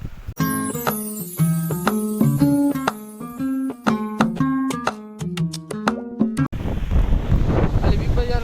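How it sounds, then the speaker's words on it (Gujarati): Melodic instrumental notes play at first, then give way to loud, rough wind buffeting against the microphone for the final couple of seconds. "કારણ કે પવન બહુ આવે છે"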